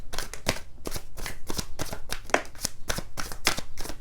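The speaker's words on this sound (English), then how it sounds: "And this will be the last shuffle." Tarot cards shuffled by hand in a steady series of crisp riffling bursts, roughly two per second, close and loud with no talking.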